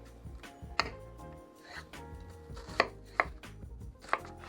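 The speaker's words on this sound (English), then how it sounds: "we slice her down the middle, and then we just go letting the weight of the knife do the work" A knife slicing and chopping on a cutting board while prepping a pork roast: four or so sharp, close knocks spaced irregularly over a low background, with no talking.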